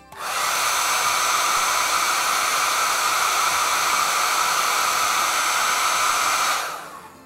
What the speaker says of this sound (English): Now let's see how much electricity a hairdryer uses.